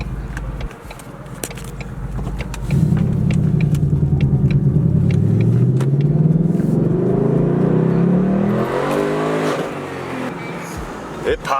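A custom Jeep Grand Cherokee Limited with an aftermarket exhaust accelerates hard from inside the cabin, the engine rumbling and rising in pitch through gear changes, with voices heard over it.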